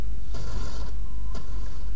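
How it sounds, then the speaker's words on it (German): A door is forced open in an Indiana Jones video game. A loud mechanical grinding and ratcheting creak comes in two bursts over a heavy low rumble. "Tür aufbrechen!"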